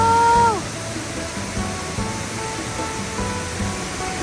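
A waterfall rushes in a steady, broadband hiss that fills the scene after a brief whistle-like tone at the start, on the Bolaven Plateau in southern Laos.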